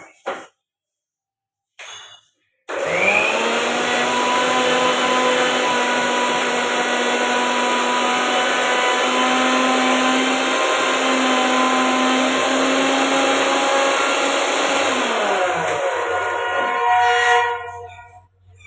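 A kitchen mixer grinder pastes raw peas, ginger and a green chilli. After a brief start it runs as a loud, steady whirring drone for about twelve seconds, then winds down and stops.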